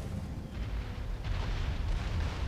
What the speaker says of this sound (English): The howitzers cannot hit them yet. But when they can, I want you to focus fire on there. With explosive shells,